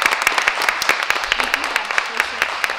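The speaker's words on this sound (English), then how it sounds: "let's give them a round of applause" Students are applauded at a school district board of education meeting, a brisk round of hand clapping with sharp repeated claps filling the room, close and steady for the whole stretch.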